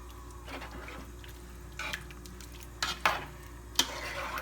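Fire-roasted tomatoes being stirred into a pot of New Orleans-style jambalaya over low heat: a few quiet scraping, wet stirring strokes that grow a bit louder toward the end, with a faint steady hum underneath.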